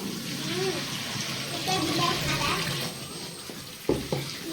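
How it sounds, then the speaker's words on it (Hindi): Water runs and splashes steadily as mutton trotters are rinsed under a tap with fresh cold water, with a few clunks near the end. "अब इसको हम फ्रेश पानी से धोएंगे"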